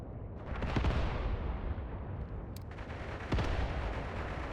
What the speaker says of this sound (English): Let's allow these anti-tank guns to go ham.